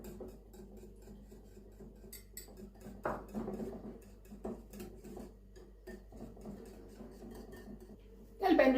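Oil being stirred a little at a time into a salted mixture of egg yolks in a bowl, with soft, quiet scraping and clinking of a utensil against the bowl and a louder clatter at the end.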